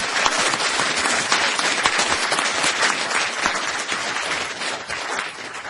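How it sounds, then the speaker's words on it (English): An audience at the final of a 2014 energy and sustainability moot court competition gives sustained, dense applause that eases slightly toward the end. "please help me give them a round of applause."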